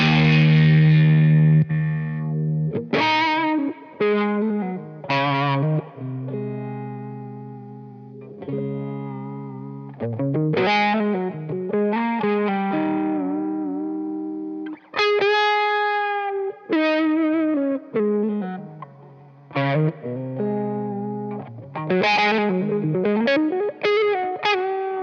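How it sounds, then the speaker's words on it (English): An electric guitar plays through a drive pedal on a pedalboard: gritty, overdriven phrases of single notes and bends with short gaps between them, close and loud with some ambient effect. "We can just put a little bit of drive on."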